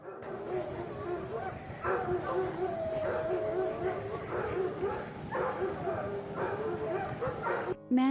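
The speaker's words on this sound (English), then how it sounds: "Dogs." Several dogs bark and yip in short repeated bursts with some whimpering, fairly faint and at mid distance over a constant background.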